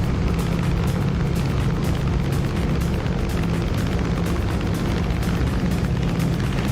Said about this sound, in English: I do love the sounds of those Hellcats.